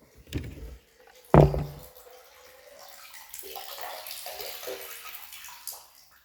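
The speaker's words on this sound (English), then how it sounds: "artesian well water just pouring out of the ground" Artesian well water pours steadily out of the ground on a farm, a continuous splashing gush with a sharp knock or thump early on and no talk over it.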